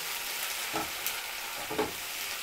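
Hot garlic sauce being stir-fried with vegetables on a high flame for a Chinese-style dish, a dense continuous sizzle with a few soft spatula scrapes, close and steady, no voices.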